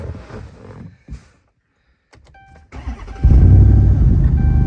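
A Mopar '11 Dodge Charger engine idles roughly, then revs up loud and raspy through an unwelded open exhaust, with a few clunks and pauses before the roar.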